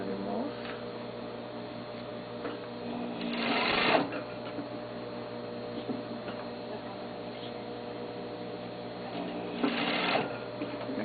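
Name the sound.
sewing machine stitching a sleeve seam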